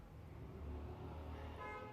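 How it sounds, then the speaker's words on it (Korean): Car horns honk outside over a low rumble of road traffic, muffled and moderately distant, with no talking during the moment. "엄청 빵빵거리시네 밖에."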